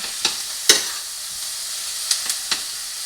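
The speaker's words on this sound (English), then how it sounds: "I'm going to stir this around just a little bit" Chopped green chilies stirred in a pot of white chicken chili give a soft sizzling hiss broken by several sharp spoon clicks, close and clear with no talk.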